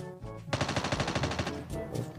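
Rapid automatic gunfire from behind the player in Call of Duty Mobile: a loud, steady burst of closely spaced shots lasting about a second, with quieter game sounds before and after.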